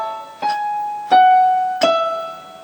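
Single piano notes step down a descending line from A toward E, three clear, close struck tones, each ringing and fading before the next, with no voices.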